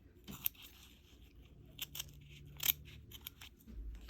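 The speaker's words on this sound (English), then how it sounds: "you can use smaller scissors if you'd like little snippets." Small scissors snip fabric in a quiet room, giving a few faint, sparse clicks and snips with soft handling noise between them.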